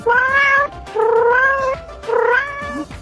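A cat meows three times in close succession, loud and near, each call drawn out and tonal with a short pause between, and no talk over it.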